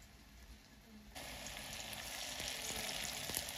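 Rice-paste fritters drop into hot oil. A quiet background suddenly gives way to a steady close sizzle, dotted with light pops and small spatters, with no voices.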